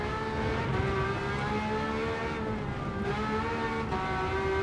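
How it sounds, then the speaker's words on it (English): A raw, loud V12 car engine in a video game with a straight-pipe exhaust drones and revs steadily, with a harsh, unmuffled exhaust tone and brief dips at gear shifts. "This definitely sounds like a bit of a straight pipe as well."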